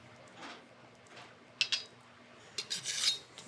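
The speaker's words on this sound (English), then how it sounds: "All of our dry ingredients will be sifted together." Flour and other dry biscuit ingredients being sifted, heard as soft scattered rasping and rubbing with a few brief louder clinking scrapes near the end, close and fairly quiet.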